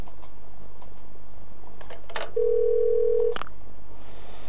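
Telephone dialing in the Parasite Eve 2 video game: a couple of sharp clicks, then a single steady electronic tone lasting about a second, followed by another click over a low constant hum.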